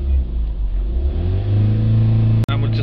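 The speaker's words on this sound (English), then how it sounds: "Start the engine up, give it a couple of revs." A van's diesel engine, fitted with a particulate filter that is not regenerating, starts and revs up a couple of times to a steady raised idle, loud and close, with a brief cut-off near the end.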